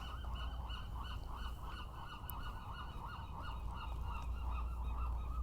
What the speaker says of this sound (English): Hear the seagulls, you always know you're in San Francisco.